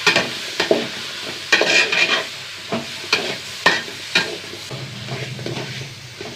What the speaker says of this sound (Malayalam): ഇനി നമ്മുടെ ചിക്കൻ ഇട്ട് കൊടുക്കട്ടെ കേട്ടോ.